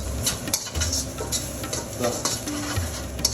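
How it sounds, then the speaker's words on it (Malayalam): Chilli powder being stirred in a pan with a little oil so it does not stick, producing close, continuous scraping and light sizzling with steady stirring strokes. "ഇത് അടിക്ക് പിടിക്കാതെ ഇളക്കിയിട്ട് കൊടുക്കണം"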